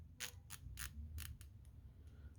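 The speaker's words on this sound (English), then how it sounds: "The bezel action is quite smooth, I have to say," The bezel of a Heimdallr SKX dive watch is turned in a series of crisp, quick clicks, about five distinct ratcheting snaps followed by fainter ones, close and quiet with no talk.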